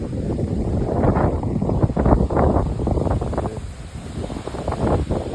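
Strong, gusting wind on a farm buffets the microphone in a dense, continuous roar, surging and easing over several seconds with no voices.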